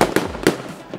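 New Year fireworks pop and crack outdoors, with several sharp bangs in quick succession and a noisy crackling wash between them, close and loud.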